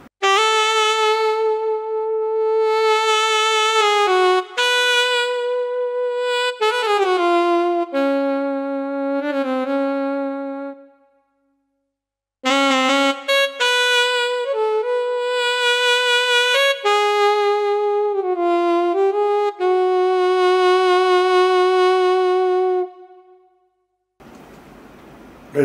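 A solo Roland Aerophone AE-20 electronic wind instrument with its alto saxophone tone plays a slow, unaccompanied melody of held notes, pausing briefly midway.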